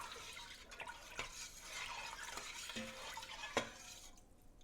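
Quiet sloshing and scraping of collard greens and water in an Instant Pot, with a few light clinks of a utensil against metal.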